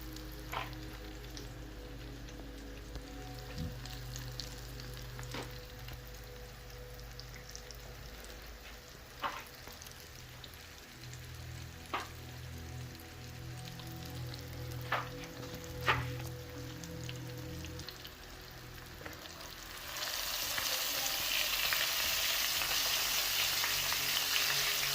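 Tater tots frying in oil, a low steady bubbling sizzle with occasional sharp pops and ticks, rising to a louder hiss near the end.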